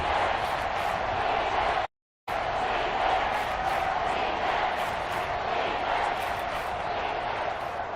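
A loud, dense Seahawks stadium crowd roars continuously through a Raiders third down in an NFL game, broken by a brief cut to silence.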